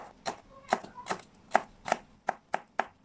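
Knife chopping red chilies on a cutting board, about ten crisp, evenly spaced strikes in a steady rhythm, close and clear, with no voices.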